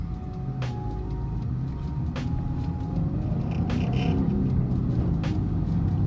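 A car with a manual transmission driving along a road, a steady low engine and road rumble throughout, with faint higher clicks and thumps over the drone and no talk.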